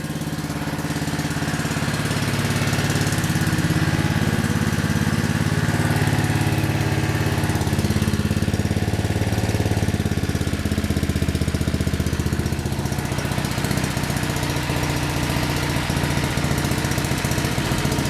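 A trash-picked Generac generator with a Briggs & Stratton 4000XL engine runs steadily nearby, a loud, continuous low chugging drone with a slight knock and little change in pitch throughout, no talking.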